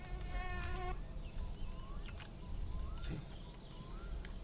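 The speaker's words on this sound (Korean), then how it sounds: "파리 소리 저거." A housefly buzzes in the video game My Summer Car, its whining drone rising and falling as it circles close to the listener, with faint background ambience and no speech.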